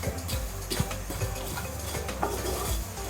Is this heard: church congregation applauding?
no